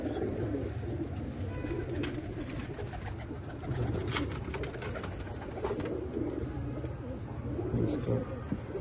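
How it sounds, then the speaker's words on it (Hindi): Pigeons cooing close by in soft, repeated low coos, with some wing flutters and background rustling throughout. "तो नईम साहब वाले कबूतर"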